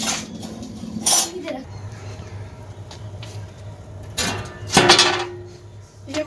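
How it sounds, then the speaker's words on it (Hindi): Kitchen utensils being put away at home, with a few sharp metallic clinks and clatters between quieter handling sounds, under a steady low hum and some nearby talk. "ये देखिए जी, अब मैं बर्तन रखने लगी"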